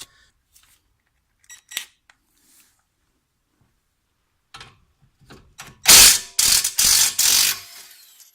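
A ratchet loosens the 18 mm caliper bracket bolts on a BMW E60 during a front brake job, giving a few faint clicks and then a close, loud burst of rapid ratcheting strokes.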